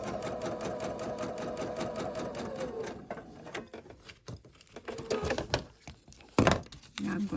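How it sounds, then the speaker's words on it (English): A sewing machine runs fast, even stitches along a fabric edge for about three seconds, then stops, leaving lighter handling clicks and knocks close by. "Sewing right along the edge."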